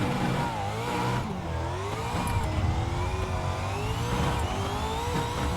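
A supercar accelerates hard up a hill climb, its engine revving and rising in pitch through the gears, loud and close, with no talk over it.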